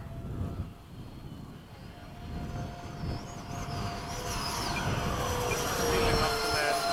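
An F-5 jet aircraft coming in to land, a rising roar and whine that grows louder and closer over several seconds, with faint voices beneath.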